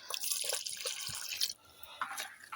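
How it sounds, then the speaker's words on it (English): Water is added little by little to sugar for cooking, giving soft dripping and trickling splashes close by, with brief pauses between pours. "So we add water little by little."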